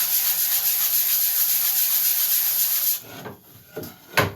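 Wooden pieces for a paper dispenser add-on are sanded by hand, giving a steady, close, abrasive rubbing for about three seconds before it breaks into a few short scrapes and a final brisk stroke.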